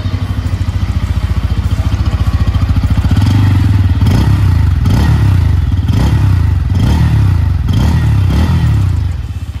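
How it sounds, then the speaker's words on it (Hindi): Loud, throbbing exhaust of a 2023 Bajaj Pulsar N160 motorcycle rumbling close by, steady idle then rhythmic revving pulses, with no talking. "बाइक का एग्जॉस्ट नोट काफी अच्छा है"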